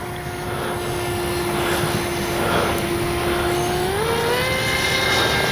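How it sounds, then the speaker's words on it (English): The small electric motor of a Dynam Hawksky V2 RC power glider buzzes steadily overhead with a constant whining tone that shifts pitch slightly as the plane flies by, loud and continuous. "Plane's got a little bit of power."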